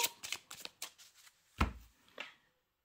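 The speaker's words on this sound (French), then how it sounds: "j'ai décidé de faire 3 paquets, de prendre les cartes du dessus de chaque paquet" Tarot cards being handled and cut into three piles, a quick run of soft papery flicks and slaps with one heavier thump near the middle, close and quiet with no speech.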